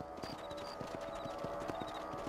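A horse trots in Red Dead Redemption with a steady, rhythmic clip-clop of hooves. Tack jingles lightly over a constant low hum.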